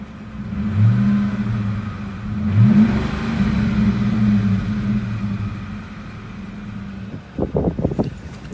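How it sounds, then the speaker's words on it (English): A 2003 Ford Mustang Mach 1 with a stock engine and stock exhaust revs loudly nearby, its rumble swelling twice before settling to a steady idle, then a few quick throttle blips at the end. "Listen to this stock engine, stock exhaust rev."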